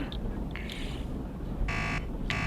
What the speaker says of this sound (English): There's the buzzer.